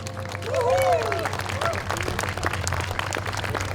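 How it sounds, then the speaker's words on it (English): A festival crowd claps in a loose round of applause outdoors, a moderate patter of many hands with cheers and chatter mixed in, over a steady low hum. "let's give everybody a round of applause"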